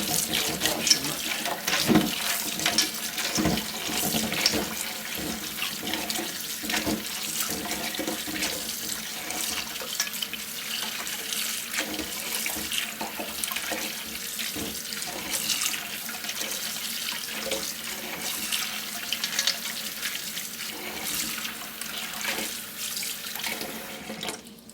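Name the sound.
tap water rinsing pumpkin seeds in sink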